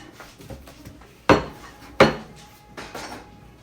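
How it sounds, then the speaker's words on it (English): A spoon stirs a pot of ingredients for a rutabaga lasagna, giving three or four sharp metallic knocks against the pot over quiet background clatter. No one speaks. "So what I'm going to do is stir this up."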